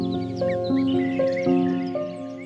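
A cuckoo chick calls loudly to its foster parents for food, giving a run of harsh, tonal, caw-like notes in close succession, near and continuous with no voices.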